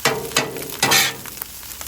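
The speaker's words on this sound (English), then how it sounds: "I'm going to kind of scramble those eggs up in the middle there and let it kind of cook" Eggs sizzle as they are scrambled on a Blackstone griddle while egg fried rice is cooking, giving a steady frying hiss broken by a few louder bursts and scraping stirs of the spatula.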